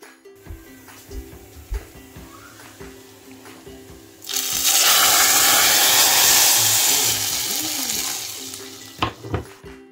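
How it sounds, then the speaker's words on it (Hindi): Quiet kitchen clatter gives way to a sudden loud, steady sizzle of dried red chillies and cumin hitting hot oil for a dal tempering, crackling continuously for several seconds before easing slightly. "तड़का की आवाज़ मुझे इतनी अच्छी लगी है"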